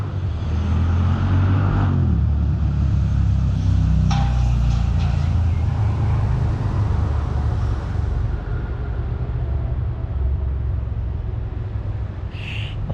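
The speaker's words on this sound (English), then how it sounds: "It's a tractor gone past." A tractor driving past on a busy road beside a campsite, a loud continuous engine rumble that swells and then fades as it moves away.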